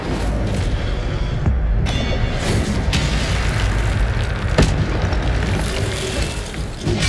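Incendio fire spells blasting in Hogwarts Legacy combat, a dense roar of fiery bursts and booms that fills the scene at high volume, with several sharp cracks punching through the constant rumble.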